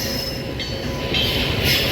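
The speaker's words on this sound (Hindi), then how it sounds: "सामने से आ रही है मदार से चल के दरभंगा जाने वाली अमृत भारत।" Madar–Darbhanga Amrit Bharat express train passing close by near Kanpur, heard from aboard another train: a steady, loud rumble of wagons and wheels with high metallic squealing that swells toward the end.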